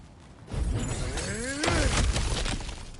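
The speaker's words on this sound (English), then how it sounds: "Ah, back to smashing through things for fun and profit." Cracked ground smashed open in God of War Ragnarok, a loud shattering crunch of breaking rock and debris that swells and lingers for a couple of seconds.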